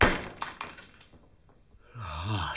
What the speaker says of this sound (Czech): Tu sklenici si rozbil ty.